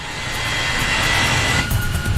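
Air France airliner accelerating down the runway on its takeoff roll, a steady loud engine roar with broadband rumble that holds throughout the short stretch, with no voices heard.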